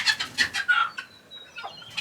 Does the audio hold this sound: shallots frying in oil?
no